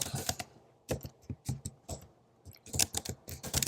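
Fast irregular key clicks on a computer keyboard while an email is typed, in close bursts with short pauses between them; no speech.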